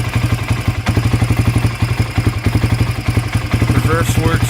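A 1997 Honda TRX 300EX ATV engine running after a cold start, a loud, close, rapid rhythmic putter with steady pulsing beats, with a voice speaking briefly near the end.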